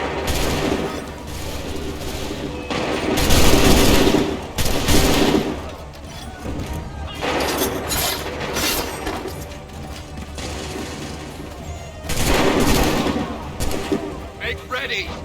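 Soldiers fire musket volleys in Assassin's Creed 3, with loud, crackling bursts of massed gunfire coming in several waves. Spoken orders and battle noise sit beneath the shots.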